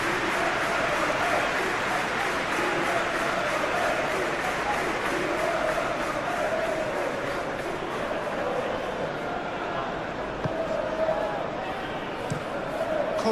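Steady stadium crowd noise from the video game PES 21 during a simulated Aston Villa versus Manchester United Premier League football match, a continuous dense roar with murmuring swells running throughout under and around commentary.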